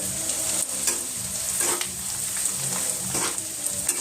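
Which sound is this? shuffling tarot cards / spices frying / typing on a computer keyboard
spices frying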